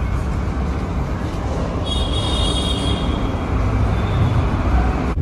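Metro train at Laxmi Nagar metro station in Delhi, a loud continuous rumble of rolling carriages with a faint wheel squeal rising partway through, steady and close throughout.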